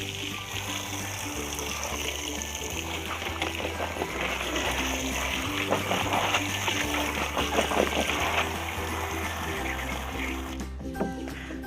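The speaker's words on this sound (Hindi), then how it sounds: "फिर हम इनको दोबारा पानी के साथ वॉश कर लेंगे।" Water chestnuts are washed in a pot of water, with splashing, trickling and sloshing sounds close by over a low steady hum.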